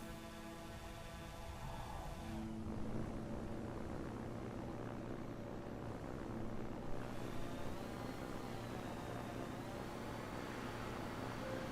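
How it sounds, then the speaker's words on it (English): An Airbus airliner in the video game Solarpunk drones steadily as it flies, a continuous engine hum with shifting tonal layers throughout, fairly faint and with no one talking. "I'm getting on my Airbus and off I go"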